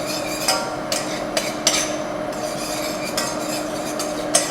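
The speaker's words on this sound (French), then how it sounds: "On remue pour pas que ça brûle." Garlic stirred in a pan while cooking an Indonesian dish, with light scraping and clinking taps of the utensil against the pan over a steady hum, close and without speech.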